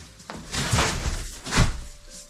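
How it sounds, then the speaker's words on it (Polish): A rear tailgate on a DIY garden pool and barrel build being closed, with a couple of dull knocks and a soft scrape close by, and no talk. "Zamykamy tylną burtę"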